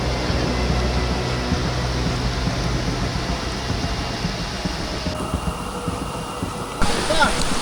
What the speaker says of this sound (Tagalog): Umaagos na rin yung tubig.